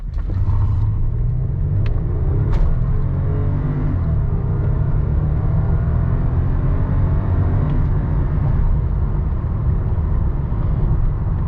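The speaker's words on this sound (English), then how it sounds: "We'll go ahead and do a quick 0 to 60 run here." A 2009 Lexus ES350 with a V6 engine accelerates at full throttle from 0 to 60, a loud, sustained engine roar heard from inside the cabin that holds steady throughout with rising tones and road rumble underneath.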